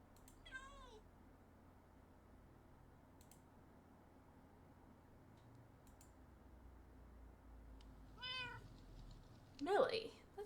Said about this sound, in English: So we have a cat named Millie.